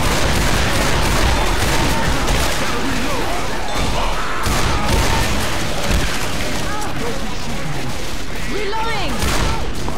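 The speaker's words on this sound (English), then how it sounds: "Is Over Nick actually shooting anything? Reloading! Yes, he is." Rapid gunfire from a survivor character shooting at enemies in Left 4 Dead, dense and loud, mixed with game effects and crashes while players talk excitedly over it.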